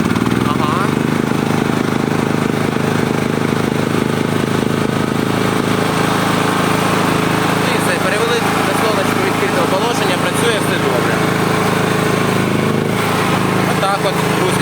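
A FORTE FG6500E petrol generator runs after pre-sale preparation, a loud continuous engine drone close by with a steady rough rhythm, while people talk over it.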